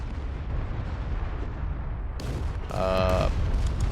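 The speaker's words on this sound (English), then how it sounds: "I would much rather deal with the enemy artillery fire" Enemy artillery fire in a war video game: a low rumbling background breaks into a sudden heavy blast and then a second booming impact near the end.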